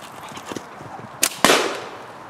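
Natural catapult fitted with GZK bands firing outdoors: two sharp snapping shots in quick succession, the second louder with a short decaying tail, plus a fainter click before them.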